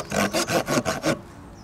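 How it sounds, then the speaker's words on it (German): Wood is sawed close up with the small saw blade of an outdoor knife. Six rhythmic rasping strokes are heard, loud and alone, and then they stop abruptly. "Okay, viel Spaß jetzt beim Sägen."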